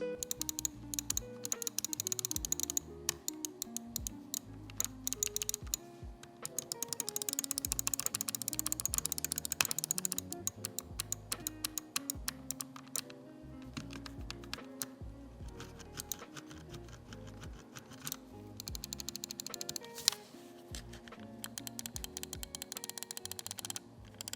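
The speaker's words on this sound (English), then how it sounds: "for switches, as we see normally with the Glorious, they're using those Omron 20Ms" The Omron 20M switches of a Glorious Model D- mouse click in rapid, close, crisp bursts. Longer rattling runs alternate with single taps throughout, with no talk.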